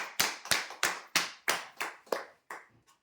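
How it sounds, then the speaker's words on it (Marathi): Hands clap in a slow, even rhythm of about nine sharp, close claps for a prize winner at a draw event, fading softer toward the end. "जोरदार टाळ्या होऊ द्या यांसाठी"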